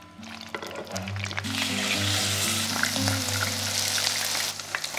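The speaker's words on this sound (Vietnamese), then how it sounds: "Mình cắt nhỏ thành từng miếng vừa ăn và đem đi chiên giòn đều các mặt" Bite-sized pieces of tofu fry crisp in hot oil with a steady, dense sizzle that swells and holds for several seconds, close up, over a low humming tonal background.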